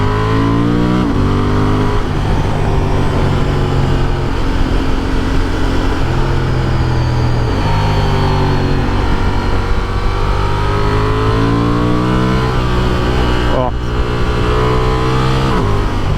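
A Honda XL750 Transalp parallel-twin motorcycle pulling hard in sport mode while touring, engine loud and close, revving up through several gears with repeated rising pitch sweeps and brief dips at each shift.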